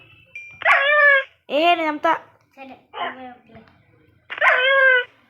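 A baby wolf (dog) in the video game Minecraft gives several short, high, whiny barks and yips in separate bursts. A brief spoken word comes between them.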